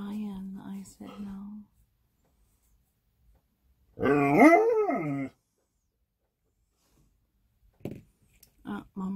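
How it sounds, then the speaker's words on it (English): A pet dog lets out a drawn-out, rising and falling howling whine lasting about a second, close and fairly loud, between stretches of someone talking before and after. "You're not gonna go out there and bark."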